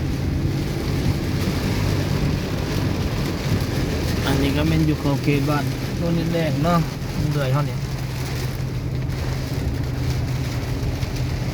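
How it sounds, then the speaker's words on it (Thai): Heavy rain pours steadily through a storm, a dense hiss spread across the whole clip, while a person talks over it in the middle section. "ฝนตกใหม่แล้วฝนตกใหม่แล้ว"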